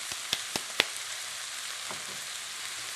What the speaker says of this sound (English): Just to get these onions to sweat down.